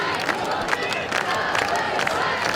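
Spectators at a high school football game at Zollner Stadium cheer after a field goal, a loud, sustained roar of massed voices with scattered shouts over a broad crowd wash.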